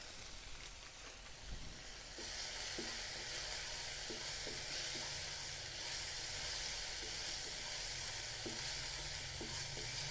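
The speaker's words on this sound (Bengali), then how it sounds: "এর মধ্যে আমি লাল লঙ্কার গুঁড়ো দিয়ে দেব" Red chilli powder added to spices frying in a pan, a steady hissing sizzle that swells after a couple of seconds, with faint spatula taps scattered through it.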